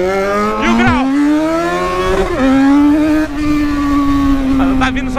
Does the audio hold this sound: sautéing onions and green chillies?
no